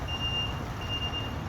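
A dump truck hauling soil at a hot construction site in Qatar sounds its reversing alarm as it pulls away. The steady high beeps repeat over a constant low engine rumble, with no talking.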